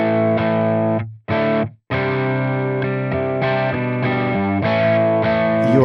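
Electric guitar played through a Tonex pedal rings out in loud, distorted chords with a chorus-like shimmer, briefly cutting out twice early on before sustained strums continue.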